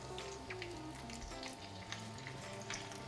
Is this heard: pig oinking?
no